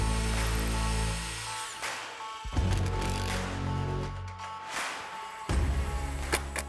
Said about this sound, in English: So let's pre-drill.